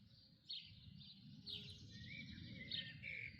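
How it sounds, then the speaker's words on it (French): Small birds chirp and sing in a vegetable garden, a few bright repeated calls at middle distance over a soft low outdoor rumble, with no one talking. "Vous entendez le chant des oiseaux?"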